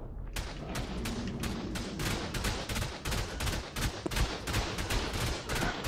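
Sustained rapid gunfire in the survival game Ark, a dense string of loud repeated shots crackling steadily for several seconds with no pause.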